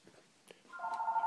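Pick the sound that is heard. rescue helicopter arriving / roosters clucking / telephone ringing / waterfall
telephone ringing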